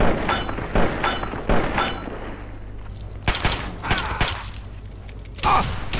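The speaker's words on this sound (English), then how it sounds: "Let's just shoot away his gun and his torso." Gunfire from a firefight against an enemy in Fallout 3. Several loud, sharp bursts come close together early, and scattered shots follow after a short lull, with some game noise between them.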